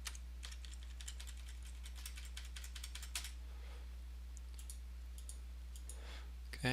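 A credit card number is typed on a computer keyboard in quick bursts of close clicking keystrokes, with pauses between runs, over a steady low electrical hum; no one speaks.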